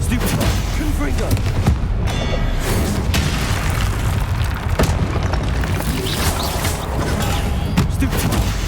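Spell explosions during combat in the video game Hogwarts Legacy, a rapid barrage of loud booms and blasts stacked over a dense, noisy battle backdrop.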